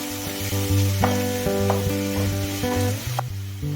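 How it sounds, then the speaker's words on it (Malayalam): A cup of sliced onions fries in a pan and gets stirred, a close sizzle with repeated scraping strokes mixed under steady background music. "ഒരു കപ്പ് സവാള ഞാൻ ഇവിടെ ചേർത്ത് കൊടുക്കുന്നുണ്ട് എന്നിട്ട് നന്നായിട്ട് നമുക്ക് ഇളക്കി കൊടുക്കാം"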